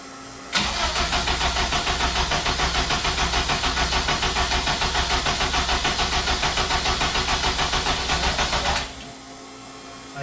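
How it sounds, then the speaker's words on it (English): A Honda K24 engine swapped into a Porsche 911 cranks and runs loudly and steadily for about eight seconds, then cuts off abruptly into quiet. "Let me know when you want me to hit the starter."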